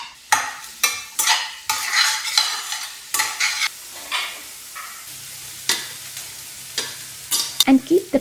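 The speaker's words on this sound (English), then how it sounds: "a tablespoon of oil, 1 large onion finely chopped that I saute" Finely chopped onion sautéing in a tablespoon of oil, loud repeated stirring scrapes and clatters over a constant sizzle, close by, in irregular bursts.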